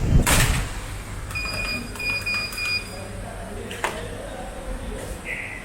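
A HomeRevon wireless alarm beeps in a short row of high electronic tones as a door opens and closes, with a door thud and faint room noise around it.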